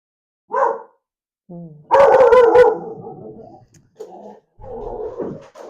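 A dog in a garden barking at a passing dog: a yip, a few loud close barks, then softer whining and grumbling sounds, with no talk.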